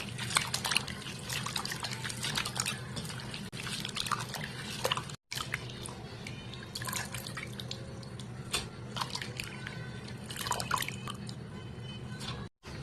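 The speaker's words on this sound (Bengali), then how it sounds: "শাকটা ভালোভাবে ধুয়ে পরিষ্কার করে নিতে হবে।" Dhenki greens are washed with water in a home kitchen, bringing trickling, dripping and splashing from a tap or bowl that run steadily with brief pauses and no talk.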